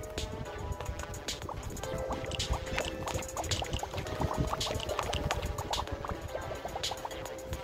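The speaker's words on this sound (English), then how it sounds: "Making bubbles is super fun." Cartoonish bubble pops and liquid bloops from a tub-tapping mobile game, a busy steady stream of bright plinks and gurgles over game music, close and continuous with no talking.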